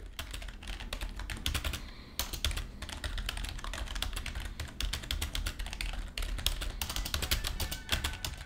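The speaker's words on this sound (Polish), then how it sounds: "Dla porównania tak brzmi SteelSeries Apex 3." Steady, fast typing on a SteelSeries Apex 3 keyboard, dense rapid key clacks continuing alone throughout at close range with an even level.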